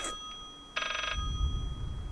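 Single short burst of a phone ringing, bright and trilling, over a low rumbling background.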